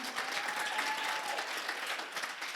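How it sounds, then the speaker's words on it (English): An awards-ceremony audience claps steadily at a volunteer awards event, a dense, even wash of many hands without speech. "We can clap."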